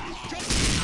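A gunshot headshot lands on a Charger in Left 4 Dead 2, a short loud burst of gunfire arriving near the end amid game noise.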